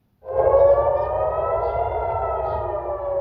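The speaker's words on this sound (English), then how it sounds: "Air raid sirens ring out across Jerusalem and Tel Aviv" Air raid sirens in Jerusalem and Tel Aviv start suddenly and hold a loud, steady wailing tone, with a low rumble of background noise beneath.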